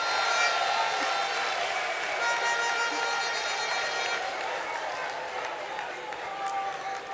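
Clapping from an audience at a political show, diffuse and moderate under a blend of crowd murmur and faint tonal music, continuing evenly without a clear start or finish.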